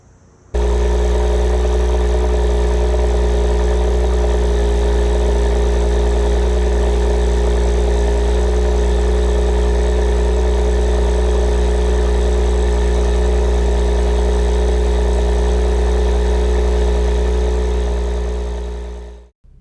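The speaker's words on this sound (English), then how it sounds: "I'm going to get you to listen to the cold start of this engine" A 2021 Porsche Macan S V6 fires up from cold and settles into a steady, loud idle with a deep constant hum and even tonal drone, close by and uninterrupted for nearly twenty seconds.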